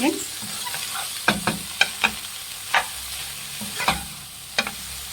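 Greens and lentils fry in a pan with garlic, a busy sizzle punctuated by repeated sharp scrapes and clicks of a stirring spoon, close and clear with no one speaking.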